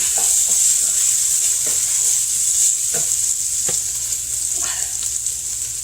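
Bacon sizzling in a hot pan on a stovetop, a steady bright hiss running throughout with occasional soft pops and stirring scrapes, close and loud, no talking.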